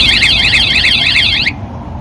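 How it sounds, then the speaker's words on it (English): A VanGuardian van alarm gives a short, loud warble of rapidly sweeping electronic tones that lasts about a second and a half and then cuts off abruptly. "Anybody trying the lock, touching the lock, anywhere on this area will activate a 2-second alarm warning."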